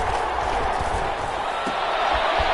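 Stadium crowd noise roars steadily from a home crowd in an American football video game on PS4, a dense, loud, continuous wash of cheering.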